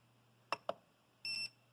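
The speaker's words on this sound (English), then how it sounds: "and it'll beep, and it says settings stored." An Ender 3 V2 3D printer beeps as settings are saved: two short clicky pips followed by a longer steady electronic tone, close and clear over a faint hum.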